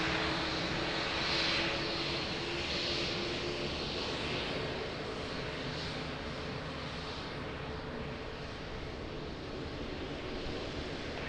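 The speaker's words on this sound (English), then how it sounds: "That's the 787-9 American Airlines." An American Airlines Boeing 787-9 at Lisbon Airport produces a broad, steady jet engine roar with a hissing upper edge that swells slightly and then holds, heard from a distance outdoors with no voices.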